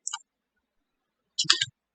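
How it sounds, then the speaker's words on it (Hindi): Two quick clicks of the down arrow key on a computer keyboard, close and crisp, separated by about a second of silence. "तो हम कीबोर्ड के डाउन बटन से थर्ड ऑप्शन पे आते हैं क्रिएट कंपनी पे।"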